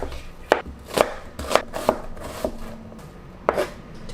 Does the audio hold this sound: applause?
no